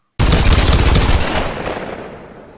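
A single loud burst of gunfire from a Tomb Raider multiplayer match, starting sharply with a brief rapid volley and then a long echoing decay that fades over about two seconds, with no talking.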